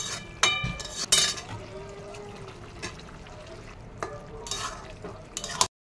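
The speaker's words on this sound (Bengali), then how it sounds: "জল দিয়ে দেবো, নাহলে ডাঁটা সিদ্ধ হবে না" Water is poured into a pan of cooking vegetable stalks, a splashing, bubbling rush with a few clinks of metal and stirring, ending abruptly.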